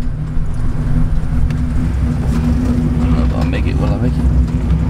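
Gutted SN95 Ford Mustang driving, with a steady engine drone and road rumble and faint interior rattles underneath, close and continuous, while someone talks over it.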